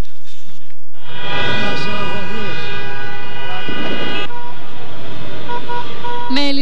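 Car horns honking in the street as people celebrate a Greek national basketball team victory: loud, sustained blasts and toots from several vehicles, overlapping and changing pitch, with crowd noise underneath.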